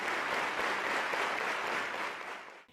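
Cuban parliament members applaud in a dense, sustained round of clapping that fills the hall for a few seconds, then fades out.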